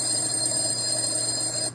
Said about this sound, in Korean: 벨소리